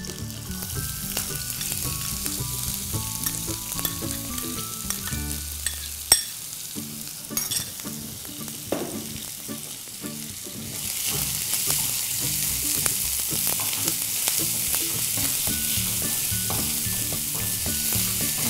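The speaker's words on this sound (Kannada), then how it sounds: "ಇದನ್ನೆಲ್ಲ ಚೆನ್ನಾಗಿ ಹುರ್ಕೊಳ್ಳಿ." Green chillies, curry leaves and finely chopped onion fry in a pan for a potato-onion palya, a continuous sizzle under repeated scraping stirs, rising into a louder, brighter hiss in the later part.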